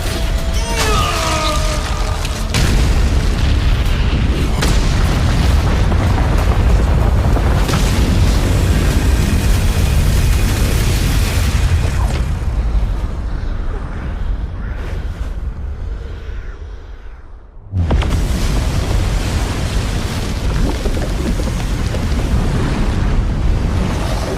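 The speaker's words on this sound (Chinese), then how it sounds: "难道他有自信在这最强爆炸中存活？" A huge, sustained roaring blast from an animated explosion fills the air, rumbling for many seconds, briefly dropping nearly silent before the thunderous roar surges back.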